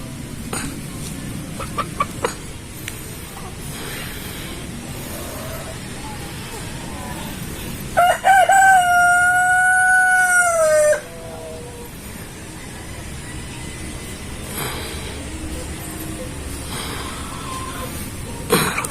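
Rhode Island chickens set on the ground for the first time cluck and peep close by, with a sustained call rising over soft scratching and background noise.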